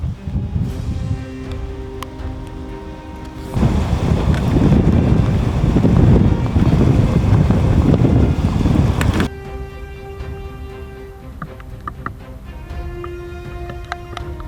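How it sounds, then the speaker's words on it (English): A sudden strong gust of near 60 mph thunderstorm wind roars across open countryside, buffeting the microphone with a loud rushing blast for several seconds before easing back to a calmer, lower rumble. "a sudden gust near 60 miles per hour slammed the countryside"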